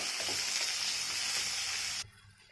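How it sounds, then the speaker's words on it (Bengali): Chopped onion frying in oil with cumin and green chilli, a close, steady hiss of sizzling for about two seconds that cuts off abruptly into near silence. "এবার দেবো পেঁয়াজ, পেঁয়াজটা দিয়ে আবারও ভেজে নেবো"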